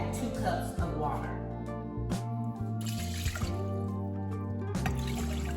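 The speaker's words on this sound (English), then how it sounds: "I'm gonna add 2 cups of water" Two cups of water pour into a pot of rinsed rice, a splashing, trickling stream from close by that runs alongside a person talking.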